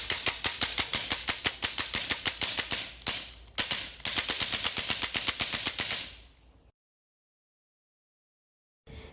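A homemade semi-automatic BB gun fires steel BBs in rapid, evenly spaced bursts of sharp cracks. It pauses briefly, fires a second longer burst, then falls silent.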